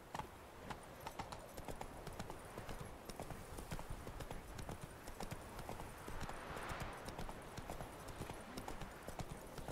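Horse hooves in The Witcher 3 video game clip-clop in a steady, fast galloping rhythm throughout, fairly quiet and continuous with no talk over it.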